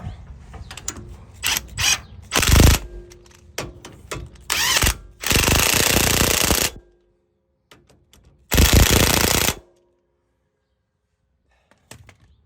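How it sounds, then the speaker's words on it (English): Impact wrench tightening the bolts on billet front sway bar clamps for a KDSS system, several loud rattling bursts of a second or two each, close up, separated by pauses and a few clanks. "I'm gonna come in with the impact, and we're gonna suck those bolts up."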